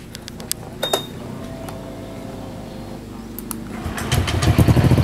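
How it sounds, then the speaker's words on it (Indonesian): A modified motorcycle fitted with a racing exhaust starts up and then revs, its engine note rising and getting louder toward the end, close by with no talk. "Mau diuji suara knalpot, mau dibuat jalan."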